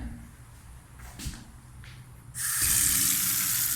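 Tap water gushes into a cooking-oil trap filter under a sink, starting suddenly after a few quiet knocks and handling sounds, then a loud, steady, close hiss of running water.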